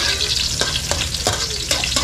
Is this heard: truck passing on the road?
no